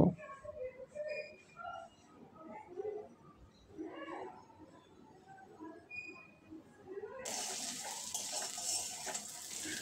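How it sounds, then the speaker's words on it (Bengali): Cut capsicum is being stir-fried in a pan, with faint clinks and scrapes of a utensil at first, then a broad, steady sizzle that swells up loud and close near the end. "এবারে কেটে রাখা ক্যাপসিকামটা দিয়ে দেব। আবারও কিছুক্ষণ ভেজে নেব।"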